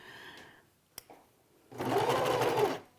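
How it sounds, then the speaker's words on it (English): A sewing machine stitches a curved quilt seam for a Drunkard's Path block. A single close, steady whirring burst of about a second follows a few small clicks and handling noises. "Sew slowly at first, stopping and starting, just to make sure that you're really taking the curve."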